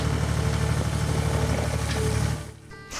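A tractor engine idles and runs steadily at close range while clearing old shrubs, gravel, Bermuda grass and weeds, with a low, even rumble that drops away near the end.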